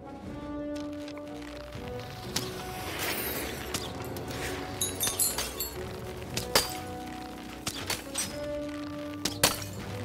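Crystals smashed in the video game Lost In Random, a string of sharp glassy shatters and clinks that grow denser toward the end, mid-distance over a quiet game background.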